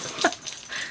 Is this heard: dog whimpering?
yes